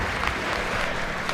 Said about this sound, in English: some of them are clapping